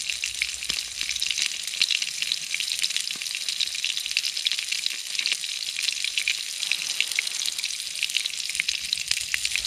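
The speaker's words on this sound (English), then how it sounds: "listen to that sizzling away" Steady, crackling sizzle of a burger frying in a pan outdoors at a camp, continuous and fairly close, with faint occasional pops and no talking.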